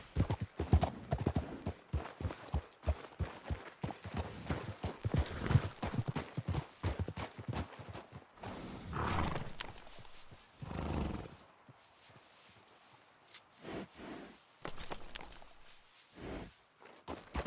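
Horse hooves clip-clopping in a fast, steady rhythm in Red Dead Redemption 2, loud and close for about eight seconds, then slowing into scattered hoof thuds, snorts and a whinny near a lake.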